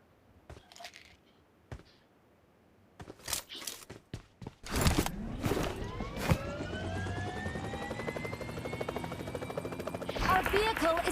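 A helicopter in the BGMI battle royale game whirs up after scattered clicks and taps, then holds a steady, fairly loud rotor drone for the rest of the clip, with a voice talking over it.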